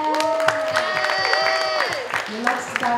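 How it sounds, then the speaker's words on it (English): Guests at a 21st birthday party in New Zealand clap and cheer together, a lively crowd burst with rhythmic clapping beneath sung or shouted voices. "applause for a beautiful girl."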